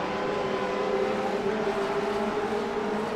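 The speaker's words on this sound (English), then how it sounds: "The Doppler effect changing the sound of the engines there as they approach the blimp." Race car engines in the Grand Prix Legends game on iRacing at Monza, heading toward Curva Grande, drone loudly and steadily, their pitch sliding gradually as the cars approach, with no voices over them.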